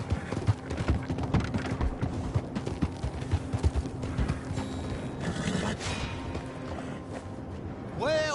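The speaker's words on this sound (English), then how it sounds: "Get that horse hidden away, Clive" A horse's hooves clip-clopping on hard ground in an old Western scene, an uneven run of sharp knocks with creaks and rattling under a continuous rumble, ending in a rising whine.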